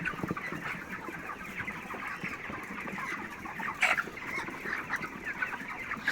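Chickens on a poultry farm cluck while pecking at their feed in winter, a busy flock chattering continuously at moderate distance with a sharper squawk standing out near the middle.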